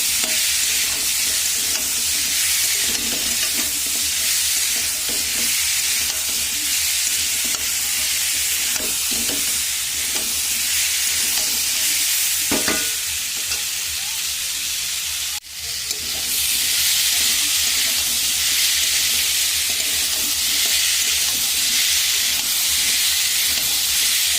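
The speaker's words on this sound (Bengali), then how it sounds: "কিছুক্ষণ ধরে কষিয়ে নেবো" Papaya and potato curry with dal is stir-fried in a pan, a loud continuous sizzle with scraping stirring strokes, steady and close throughout, with no talking.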